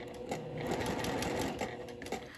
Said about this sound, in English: And I'm going to sew it 1/8 of an inch.